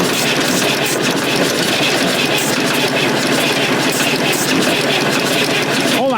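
A Fordson Super Major backhoe's diesel engine fires and runs on ether, a loud, steady, rough clatter filling the whole stretch up close, with voices talking over it.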